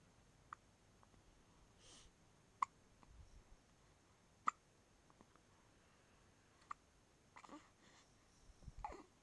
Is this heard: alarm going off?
no